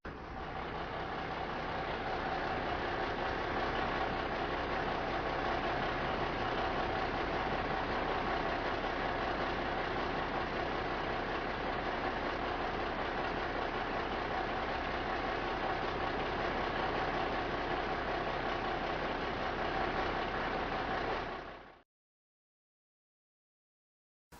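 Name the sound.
large hydraulic crane engine idling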